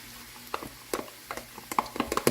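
Onions hitting a hot pan for a home-style ampalaya and egg dish, giving a low steady sizzle with scattered sharp crackles and stirring scrapes that grow busier toward the end, close by with no talk.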